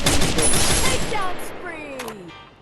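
Rapid gunfire bursts in the mobile battle game Garena Free Fire, dense and loud at first, then thinning out with sweeping game effects as the shooting tails off.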